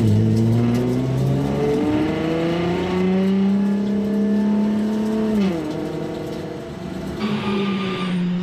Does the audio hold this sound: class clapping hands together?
no